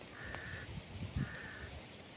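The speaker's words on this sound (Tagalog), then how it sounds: "yan ang wak-wak" A crow caws from a tree in a rural Philippine farm setting, two drawn-out harsh calls spaced about a second apart, fairly distant over low background noise.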